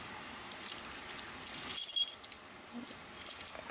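Metal keys jangle and clink in short bursts while someone tries keys in a door lock, close and fairly quiet, with no talking.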